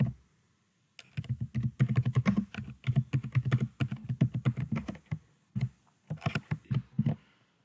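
A file name is typed on a computer keyboard in quick, close, crisp key clicks arriving in bursts with short pauses between them.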